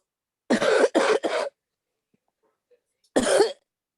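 Three quick coughs in a row, a pause of near silence, then one more cough, close up and fairly loud.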